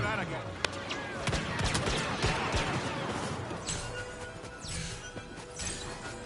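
Rapid blaster fire and crashing impacts in Star Wars Battlefront gameplay as Han Solo, a dense, loud barrage of shots and explosions with sweeping whooshes, no talking.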